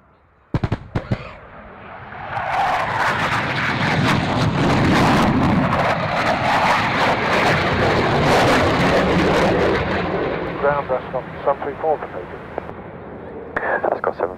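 A Tornado jet performs at the Waddington airshow, its engine roar building into a loud sustained rumble that fades after about ten seconds, with a commentator talking and radio chatter around it.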